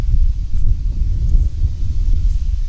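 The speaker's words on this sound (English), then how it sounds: "Man, it's getting windy." Low, gusty rumble of wind buffeting the microphone outdoors among beehives, steady throughout with no speech.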